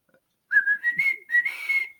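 A person whistles in imitation of a signal whistle, two short rising phrases close and clear with no talking, the second held longer.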